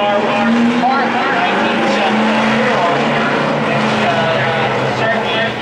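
A loud, continuous roar of a restored 1970s race car engine rumbles steadily throughout at close range, with a faint murmur of voices underneath.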